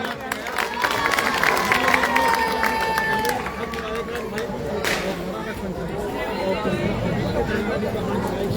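A crowd at a village public meeting in Softa claps and chatters, with a murmur of voices and scattered shouts mixed into the applause and a brief whistle-like tone near the start.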